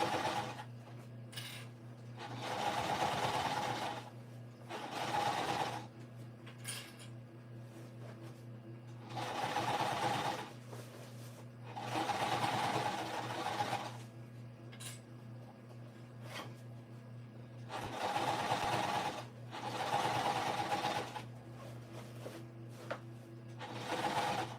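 Sewing machine stitching in bursts of a few seconds each, a close, steady mechanical whirr that starts and stops repeatedly with brief quiet pauses and light clicks between runs.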